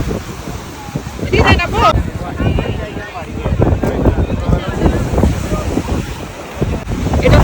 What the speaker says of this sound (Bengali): এই পাশে দেখছো আপু এই পাশে বেশি ঢেউ আসতেছে